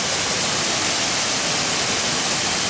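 A waterfall at a swimming hole in outback Australia gives a dense, steady roaring rush of falling water, loud and close, with no voices over it.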